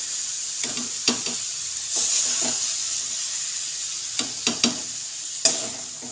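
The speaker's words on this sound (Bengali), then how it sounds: "এবার আমি সবজিগুলো এক এক করে হাঁড়ির মধ্যে দিয়ে দেব।" Vegetables drop one by one into a sizzling pot for vegetarian bhog khichuri, giving a continuous fry hiss broken by several sharp thuds and clatters as pieces land and are stirred, each followed by a brief surge of sizzle.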